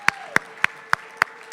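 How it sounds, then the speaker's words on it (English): At an annual charity dinner, a room of guests claps in six sharp, evenly spaced single claps, loud and close, like a slow rhythmic beat rather than a full ovation, with a faint steady tone beneath. "Round of applause."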